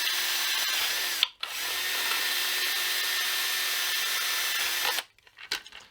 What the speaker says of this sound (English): Here's a step bit, and I just plunge it straight through because the plastic is